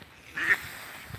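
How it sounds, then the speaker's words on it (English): A duck gives a single short quack in an outdoor setting in Haddington, brief and moderately loud, against faint background noise. "Incoming duck."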